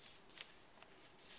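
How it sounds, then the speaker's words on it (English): Origami paper folded and creased by hand, soft crisp rustles and light paper snaps, quiet and close with no talk. "Then fold all four corners in."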